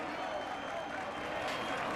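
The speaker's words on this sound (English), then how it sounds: "Tremendous applause from the crowd on the Champs-Élysées" Dense crowd applause along the Champs-Élysées at the finish of the 1992 Tour de France, a continuous wash of clapping and cheering heard from a distance, steady throughout.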